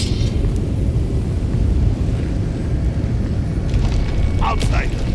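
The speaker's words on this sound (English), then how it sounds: "That was a damn big explosion, wasn't it?" A big explosion in the video game Avowed rolls out as a loud, deep, sustained rumble lasting several seconds.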